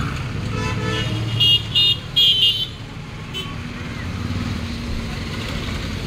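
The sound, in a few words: traffic jam on main road, cars honking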